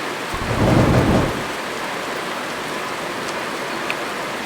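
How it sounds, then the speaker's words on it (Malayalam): A rumble of thunder rolls through steady heavy rain during a thunderstorm in the Roblox game 99 Days, the thunder peaking early and then fading into continuous rainfall with no talking. "കണ്ടോ മഴ ഇടി മിന്നിലേറ്റ്."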